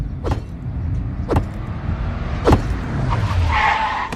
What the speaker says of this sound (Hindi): अरे अब गाड़ी क्यों रोक दी?